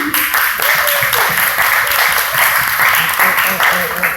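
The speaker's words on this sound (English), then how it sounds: "So please give yourselves a round of applause." A crowd applauding steadily, a dense wash of clapping that stays loud throughout the few seconds.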